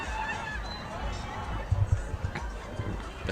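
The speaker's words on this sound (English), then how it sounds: "The crowd is lively here tonight. Everyone can hear it." Lively crowd at a high school football match between Hoërskool Stellenberg and Hoërskool Outeniqua, a steady murmur of many voices with a few louder shouts and thumps rising partway through.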